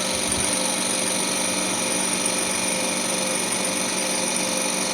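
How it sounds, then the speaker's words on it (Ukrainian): Power feed drive of a model 278 boring machine moving its table, a steady continuous mechanical whine and hum held at even loudness throughout, close by and with no talk over it. "Бачите, станочок їде, стіл."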